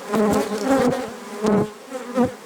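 Honeybees buzz past at close range in an old apple orchard, heading out toward a field, the droning hum swelling and fading in several passes with no talking.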